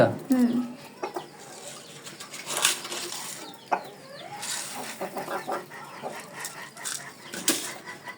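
Fayoumi hens inside a farm shed cluck and squawk in bursts, with occasional wing flaps and rustling close by and a busy, steady flock background.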